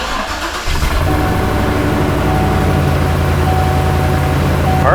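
A 2007-2014 Chevrolet Silverado 2500 HD engine cranks briefly after fuel pump lock ring work, catches about a second in and settles into a loud, steady running drone with no talk.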